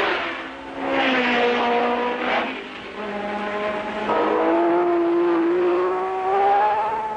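Dan Gurney's Eagle and other 1967 Formula 1 race cars roar at the Nürburgring, their loud, sustained engine whine shifting in pitch as it climbs and swells, with no talk over it.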